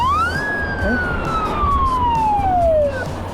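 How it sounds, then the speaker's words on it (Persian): A siren sweeps down in a long, loud falling wail, heard near on a road during a long-distance bicycle ride from Tehran toward Chalus, over steady traffic rumble. "چرا یه آژیر زد"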